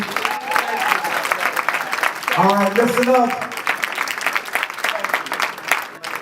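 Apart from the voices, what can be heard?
audience applause for Dr. Sebi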